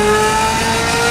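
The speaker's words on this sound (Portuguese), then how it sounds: "o ronco F1, certo? Não existe outra Modena com esse ronco F1 no Brasil" Ferrari 360 Modena V8 with a custom F1-style exhaust holds a loud, high sustained rev, a steady bright engine howl close by.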